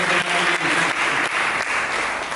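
Congregation clapping during a church sermon, a brief burst of dense, even applause filling the hall from start to finish.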